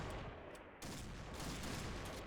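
Rapid gunfire from a newly acquired gun in a video game, a dense, loud continuous burst of shots that briefly dips before resuming at full intensity.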